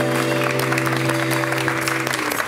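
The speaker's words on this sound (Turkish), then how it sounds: "Alkışlarla konuklarımızı uğurluyoruz" A studio audience applauds departing guests on a Turkish television show, a dense burst of clapping layered over steady sustained musical tones.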